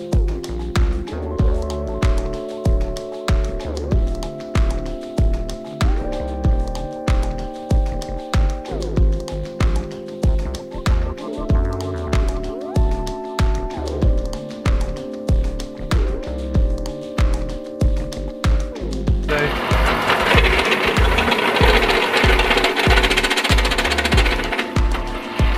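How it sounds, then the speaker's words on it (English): Drill bores into a steel oil pan for a bung hole in steady repeated bursts, close and loud with shifting whine pitches, ending in a sustained harsh grinding stretch; no talk. "let's go ahead and get drilling."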